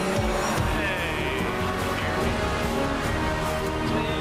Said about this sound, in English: That engine's pretty loud.